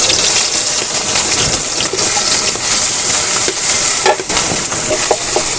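Fish fries in soybean oil with a loud, dense, hissing sizzle that runs unbroken, with occasional sharper spatters and stirring scrapes.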